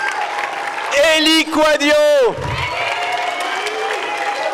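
An audience at a high-school eloquence contest in Montreuil applauds the participants, a crowd of clapping and cheering that continues around a loud announcer's voice speaking a name over the noise.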